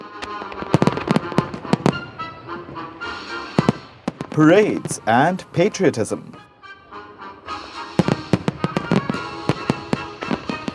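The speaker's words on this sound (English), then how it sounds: "It's the 4th of July in America, a day of fireworks" Fourth of July fireworks crackle and pop in rapid, dense bursts, with whistling rockets rising midway, while a voice talks briefly over the noise.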